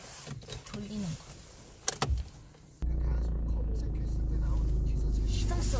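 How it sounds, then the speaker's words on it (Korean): A Volkswagen Golf 2.0 TDI diesel engine cranks and catches near the three-second mark, then settles into a loud, steady idle rumble; before it, a voice talks amid clicks and key sounds. "시동 한번 켜볼게요"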